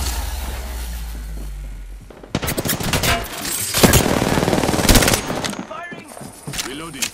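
Gunfire in the shooter Apex Legends: loud rapid automatic bursts and sharp shots cutting in after a brief lull, sustained for several seconds with crackling echoes.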